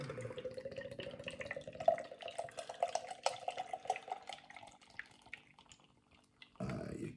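Mango lager pours into a Birra Moretti glass with a close, bubbling liquid trickle that tapers off and stops, followed by a brief rustle near the end.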